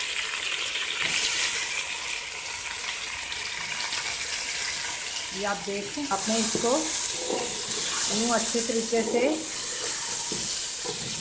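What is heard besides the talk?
meat frying and being stirred in pot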